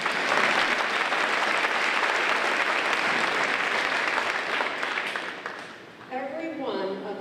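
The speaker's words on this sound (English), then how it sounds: "I think a little applause" Sustained audience applause at a Halton District School Board student excellence celebration, steady and loud for about five seconds before fading, followed by a voice speaking.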